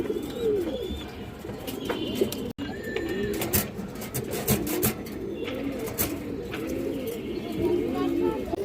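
Pigeons coo in low, throaty murmurs over a steady background of chirps and flutters, with a person talking nearby.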